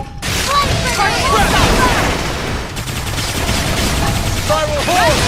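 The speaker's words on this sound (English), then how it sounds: "Flame grenade." Flame grenade blasts and gunfire from the game Xenoblade Chronicles X, dense bursts of booming explosions and rapid shots layered with whooshing effects, loud and continuous throughout.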